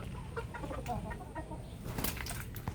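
Chickens cluck in short, irregular bursts close by in a flooded backyard, over a low background hum, with a brief flurry of sound near the end.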